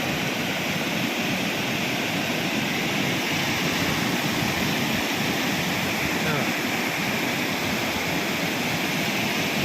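A swollen monsoon river and strongly flowing mountain waterfalls produce a loud, unbroken roar of rushing water that holds steady throughout, with no gaps or breaks.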